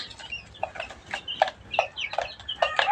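Layer hens about a month old cluck on a poultry farm, a run of short, clipped clucks from several birds close by, irregular and moderately loud over a quiet background.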